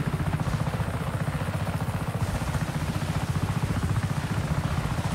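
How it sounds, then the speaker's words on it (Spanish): A green unarmed helicopter in Just Cause 3 drones steadily with fast, rhythmic rotor chopping, loud and close for the whole stretch, with no voices. "Qué bonito helicóptero sin armas."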